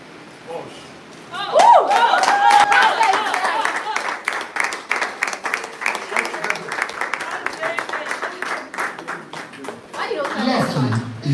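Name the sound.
audience applause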